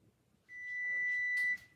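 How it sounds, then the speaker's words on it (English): A kitchen egg timer gives one steady electronic beep, held for about a second, close and clear against quiet room noise. "Timer's gone off on my egg."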